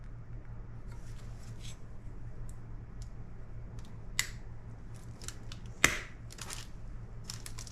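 Nippers snip off pieces of material for a homemade fishing lure. Sharp clicks and cuts come at irregular intervals over a low hum, with two louder snaps standing out near the end.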